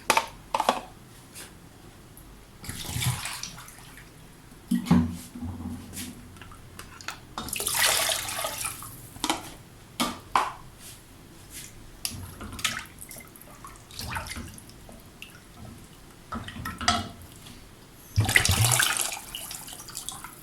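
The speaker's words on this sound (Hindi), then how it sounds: "तकरीबन 4 कप मैंने इसमें पानी डाल दिया है।" About four cups of water are poured into a pot of yogurt curry, coming through as intermittent splashing and trickling bursts with drips and small clinks between them, close and moderately quiet, with no talking.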